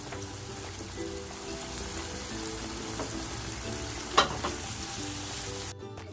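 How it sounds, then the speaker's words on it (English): Cottage pie filling sautés in a pan, giving a soft, steady sizzle with occasional stirring scrapes and a brief clatter near the end. "I'm gonna saute this for 5 to 6 minutes"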